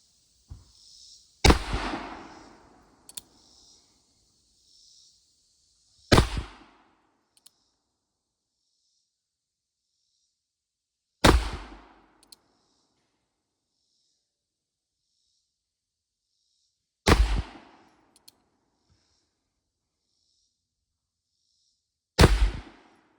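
An 1858 Remington revolver by Pietta fires black powder rounds at a range: five loud, sharp, evenly spaced shots, each followed by a short ringing decay, with near silence between them.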